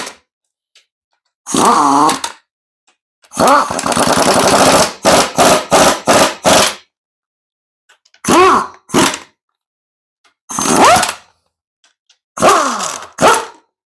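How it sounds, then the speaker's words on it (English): Impact wrench spinning up the silver bolts during an LS engine and AR5 transmission swap into a 1968-72 GM A-body, a series of short, loud bursts of varying length, some rapid in succession, with quiet gaps between. "I just ran them up with my impact."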